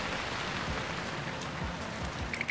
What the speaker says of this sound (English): Even when Dave is challenged by unpredictable rain showers, the weather sealing protects vital internals of the instrument